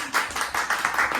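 A small family claps for the winner of a pani puri eating challenge at home, a short burst of close, uneven hand claps with voices mixed in.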